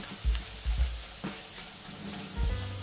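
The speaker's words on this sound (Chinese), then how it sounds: "接着将蒜蓉炒香" Minced garlic sizzles in hot oil in a wok over medium-low heat while a sweet chili sauce is being started. There is a soft, steady frying hiss with a few low knocks of stirring, close and fairly quiet.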